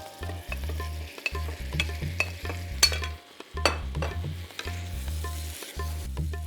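Shrimp drop into a hot pan of spiced yogurt masala and sizzle loudly, with rhythmic stirring and scraping strokes in repeated bursts, close up and without talk.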